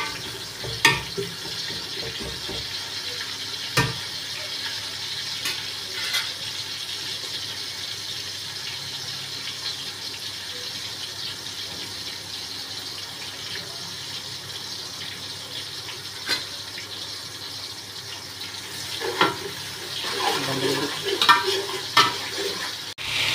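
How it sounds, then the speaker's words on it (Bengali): Prawns coated in turmeric and salt fry with onion and garlic in a pan, giving a steady sizzle throughout with occasional scrapes and clinks of stirring, and no talking. "আমার চিংড়ি মাছটা ভাজা হয়ে গেছে।"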